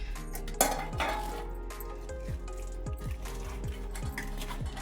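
A ladle stirs moong dal into mango pickle inside a metal pot, making soft repeated clinks and scrapes against the pot in a steady stirring rhythm over a low background hum.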